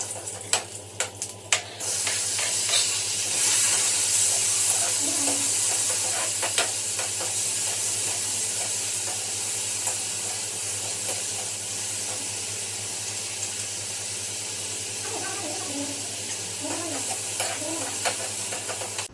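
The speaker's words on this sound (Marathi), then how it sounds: "त्यामध्ये टोमॅटो टाकून हे करणारे परतून घेणारे टोमॅटो पण छान असा" Tomatoes with a little salt sauté in a pan, producing a continuous hissing sizzle that holds steady across the whole stretch, with a few clinks and stirs early on and no talking.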